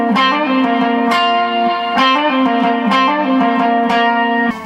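A guitar riff with an added octave and swirling modulation, giving a thick, chorus-like shimmer; notes are picked rhythmically and ring out alone.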